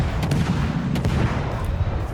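Naval gunfire from the destroyer Daring firing HE shells in the World of Warships game. A dense, rumbling barrage of booms rolls on continuously with a few sharper reports on top, loud and close.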